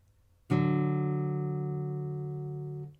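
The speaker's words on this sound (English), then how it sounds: "Here's the first interval." Two sustained notes sound together as one bright, clean tone that starts sharply and fades slowly over a couple of seconds.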